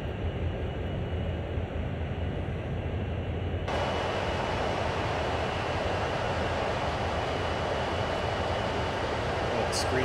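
CSX heavy haul freight train in Train Sim World, in ice and snow, starting to accelerate: a steady, loud broadband rumble and rush of diesel locomotive noise that continues without break throughout.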